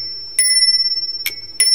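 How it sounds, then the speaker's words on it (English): A Czechoslovak Tesla telephone bell is struck, giving three sharp metallic rings with a bright sustained ringing tone. Each strike fades before the next one lands. "now the other bell would have to be adjusted"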